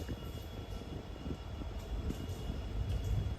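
Passenger train rolling onto the Bharathapuzha bridge between Shoranur and Thrissur, heard as a steady low rumble and rattle of carriages that grows slightly louder toward the end, continuous with no speech.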